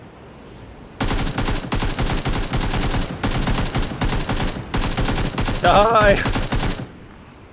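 Rapid bursts of automatic gunfire from PUBG on Xbox One ring out loud and close in several sustained volleys, with a brief shout over the shooting.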